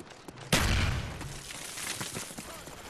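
Gunfire in a first-person shooter video game: a sudden loud burst of shots after a short quiet lead-in, followed by scattered quieter pops and rumble fading over a couple of seconds.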